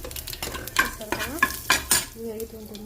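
A tempering of fenugreek seeds, urad dal and mustard seeds sizzles in hot oil with asafoetida for a brinjal curd chutney. Close spluttering and frying comes with several sharp pops and scraping stirs of a spoon in the pan.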